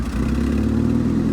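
A Ford F150 3.5 EcoBoost fitted with an MBRP exhaust idles roughly just after starting, a deep, steady, slightly uneven rumble held close and loud throughout with no pause.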